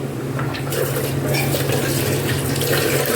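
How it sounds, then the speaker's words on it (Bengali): Hands washed under a running tap, a steady close rush of water splashing into a sink with a low hum underneath. "হাতটা ধুয়ে নিই"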